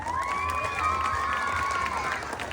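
A pageant audience cheers and applauds, a continuous crowd roar with shouts and a long rising whoop carrying over scattered clapping, fairly loud and close.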